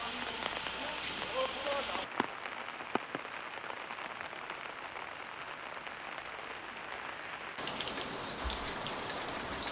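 Steady rain pattering on surfaces at a rural Korean home, a dense close hiss of drops with a few sharper taps.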